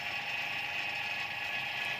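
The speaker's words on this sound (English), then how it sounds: "your vacuum pump is very effective, You can vacuum for just 10 minutes or 30 minutes depending on the system" A vacuum pump evacuates the refrigerant system of a deep freezer being repaired, giving a steady, continuous mechanical drone with a rattling, ratchet-like texture at moderate volume.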